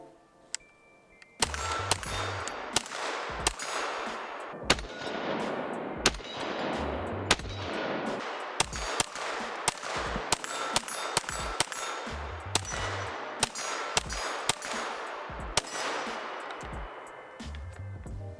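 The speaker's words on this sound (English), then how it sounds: "I don't think I've actually shot this with the new Chris folding adapter and the new magazine, so we'll see how it does." A KRISS Vector fires with a new magazine and folding adapter, sharp loud shots ringing out one at a time and in quick pairs across an outdoor range, each followed by a short metallic ring and echo.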